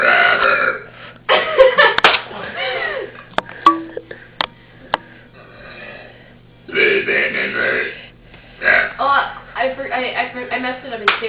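A woman lets out a series of loud, drawn-out gross belches, several long croaking burps separated by short pauses, close to the mic, with some talking mixed in.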